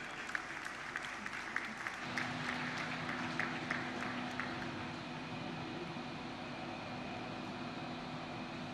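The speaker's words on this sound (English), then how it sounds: "a big round of applause for Mr. Rajiv Jalota ji" Conference attendees at a cruise tourism session applaud a speaker with scattered sharp claps over a steady hum. The clapping thins after a few seconds, leaving a low tonal drone.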